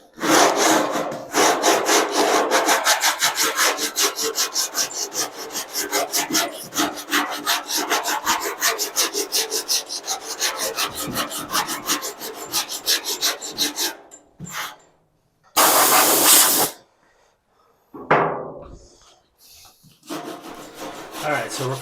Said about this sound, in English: We use that 40 grit on the block.